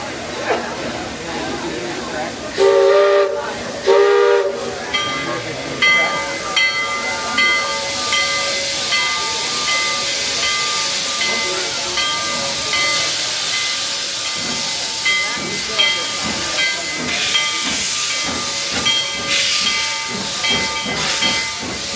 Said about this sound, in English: steam locomotive to go to the front